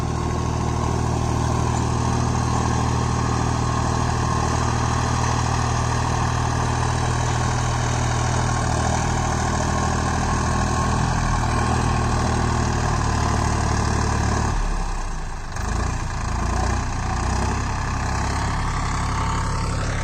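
A Solis 5024S 4WD 50 HP tractor pulling a rigid cultivator runs steadily and loud throughout, a continuous low rumble with a brief dip and change in load near the end.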